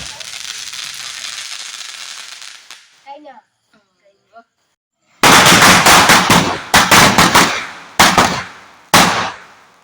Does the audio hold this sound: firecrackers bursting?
yes